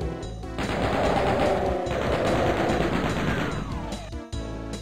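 Shotgun-armed enemies fire in Doom, a dense, loud run of blasts and gunfire filling most of the moment before a brief cut near the end.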